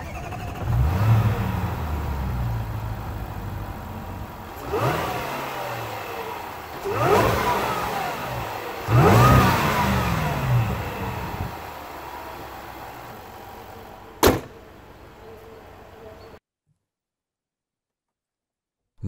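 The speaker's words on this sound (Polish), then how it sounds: "jak dodajemy więcej gazu, to słyszymy wycie kompresora" A supercharged 5.0 V8 in a Range Rover Sport P525 cranks over at length, catches, then revs hard three times with a rising supercharger whine, settles to idle, and cuts off into silence.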